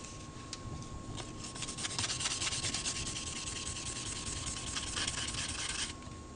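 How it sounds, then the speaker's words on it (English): Copper circuit board being dry-sanded with 600 grit sandpaper, a close, quiet, continuous rapid rubbing scratch lasting several seconds, with a faint steady tone beneath. "So let me just sand this area here."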